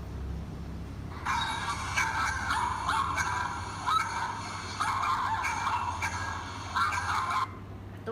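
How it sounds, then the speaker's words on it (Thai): Dog barking from a Thai preschool nature-sounds lesson, a steady run of repeated barks and yips at moderate loudness over a low background hum, with no talking. "เสียงของสุนัขนั่นเองนะคะ"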